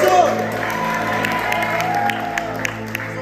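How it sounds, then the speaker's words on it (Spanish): Applause for Jason from a congregation at a Lag Ba'Omer gathering, clapping and a few whoops and shouts that hold steady and then thin out, with a voice talking over it. "Un fuerte aplauso para Jason."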